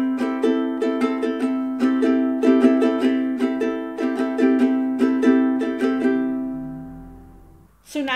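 A ukulele strummed in a repeating down, down, up, up, down, up rhythm, bright chords ringing close and steady for several bars before the last chord fades out.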